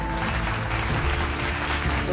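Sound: applause for women holding slogans at a rally

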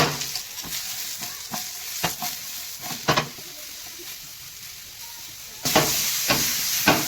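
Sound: mushrooms frying and being stirred in a little oil

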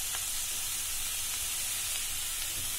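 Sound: grated coconut frying in pan with cardamom and sugar

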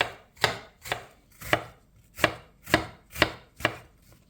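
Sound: chopping a juicy apple with a knife

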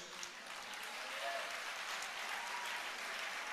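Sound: congregation applause

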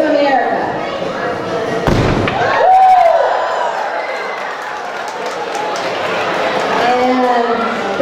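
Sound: hydrogen balloons exploding with booms

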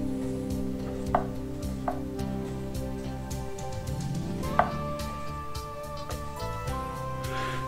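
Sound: knife cutting beef knuckle

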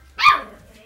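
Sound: puppies barking outside

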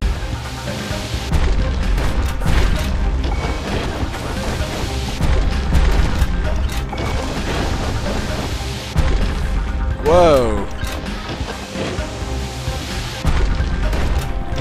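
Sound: ground being destroyed in Bastion video game

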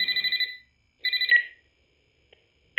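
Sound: telephone ringing in a video game (Graveyard Shift at Freddy's)

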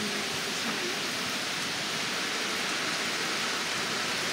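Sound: heavy rain pouring in the woods

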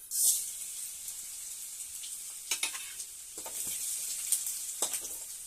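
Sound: spices spluttering in hot oil

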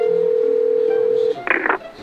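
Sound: telephone dialing tone while calling a colleague

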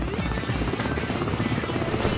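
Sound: helicopter flying

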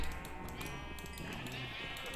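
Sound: sheep bleating in Minecraft video game

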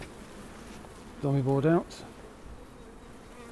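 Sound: honey bees buzzing in a hive

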